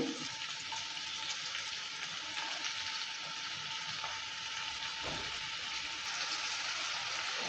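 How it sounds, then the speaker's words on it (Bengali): Chopped onion, one large onion cut fine, fries in hot refined oil for veg chowmein, giving a dense, even sizzle that crackles steadily and close up throughout with no talking. "রিফাইন অয়েলটা হিট হয়ে গেছে এবার দিয়ে দিয়েছি পেঁয়াজ কুচি"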